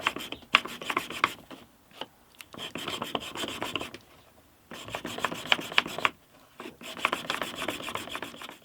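A chisel is rubbed back and forth on a 450 grit sharpening plate in rhythmic bursts of gritty rasping strokes, pausing briefly between sets, close and fairly quiet.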